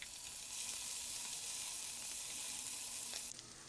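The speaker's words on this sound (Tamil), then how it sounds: "ஆட் பண்ணிவிட்டு நல்லா வதக்கிக்கோங்க." Chopped onions and green chillies sauté in a pan for tomato rice, a steady close sizzle and frying hiss that swells briefly and then drops a little near the end.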